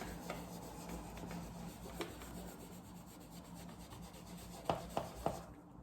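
Soft rubbing and scrubbing on a multi-colour Louis Vuitton Pochette, wiped in circular motions to lift dirt, makes a quiet continuous friction texture with a few sharper scuffs near the end.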